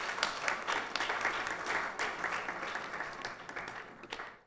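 A congregation at a Krishna Mandir Sunday service applauds parents, teachers and students: a full round of hand clapping in a hall, steady and fairly soft, tapering off toward the end.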